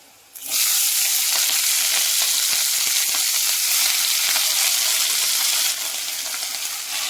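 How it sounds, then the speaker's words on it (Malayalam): Chopped spinach leaves are dropped onto onions frying in a pan for a thoran, setting off a sudden loud, bright sizzle that holds steady for several seconds and then eases slightly, with no talking. "ഇതിലേക്ക് ഞാൻ അരിഞ്ഞു വെച്ചിട്ടുള്ള ചീരയുടെ ഇല ഇട്ട് കൊടുക്കുകയാണ്."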